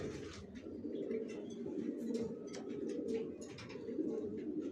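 Racer pigeons of the Johnson line keep up soft, continuous cooing close by, a low murmuring drone that barely breaks.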